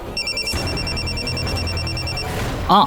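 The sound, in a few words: telephone ringing during a call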